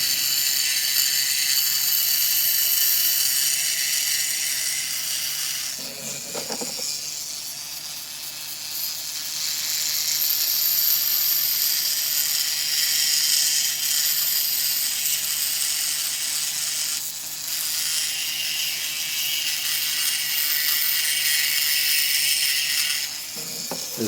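A rotary tool runs at gentle speed, carving fire agate with light pressure, making a steady high whir and grind close by with a few brief dips and catches in tone, and no voices.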